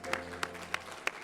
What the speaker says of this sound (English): I'm gonna give you applause